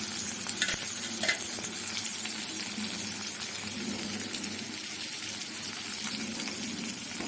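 Chopped onion, green chili and grated garlic fry in a pan, giving a steady, close, dense sizzle that holds evenly for the whole stretch with no voices.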